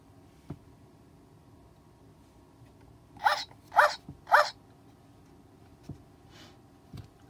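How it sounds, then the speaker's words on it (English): Three quick dog barks in a row, fairly close, against a quiet background with a couple of faint knocks. "Do you remember what sound a dog makes when he's barking?"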